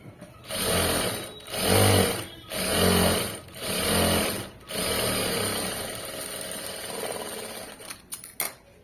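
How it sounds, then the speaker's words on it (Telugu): A sewing machine top-stitches a fabric border in four loud, close bursts of rapid whirring, then runs more steadily before stopping with a few faint clicks. "మళ్ళీ ఇలా ఓపెన్ చేసుకుని టాప్ స్టిచ్ వేసేయండి"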